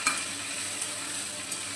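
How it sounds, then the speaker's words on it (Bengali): Spice paste sautés with fried potatoes in a pan for a vegetarian cauliflower curry, producing a soft, even close sizzle with a few light stirring taps and no talking. "এবারে মশলাটা ভালো করে কষিয়ে নেব।"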